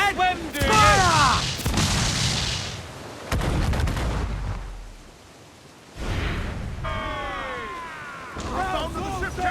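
Ship cannons firing during a naval battle in Assassin's Creed Black Flag, several heavy booms with rumbling tails spread across the stretch, under shouted orders and crew voices.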